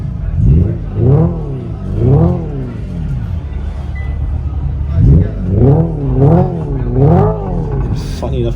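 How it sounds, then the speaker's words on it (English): Hyundai Ioniq 5 N synthetic exhaust sound through Active Sound+ gives repeated rising and falling engine-like revs in the cabin, several swells in short bursts, loud and close. "I just heard an exhaust sound outside."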